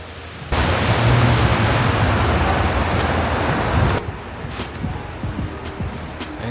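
Water rushing steadily at a clean, cold mountain stream below a waterfall, a broad close roar for a few seconds that then drops to a quieter flow with faint scattered sounds.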